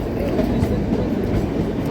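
Kalka–Shimla toy train running on narrow-gauge rails through pine hills, a steady low rumbling roll heard from inside the carriage, dense and continuous throughout.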